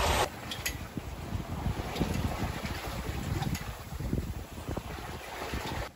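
Sailboat moving at almost five knots in about ten knots of wind in the Mar Menor area south of Murcia, Spain, with a constant rush of wind and water noise and occasional light knocks.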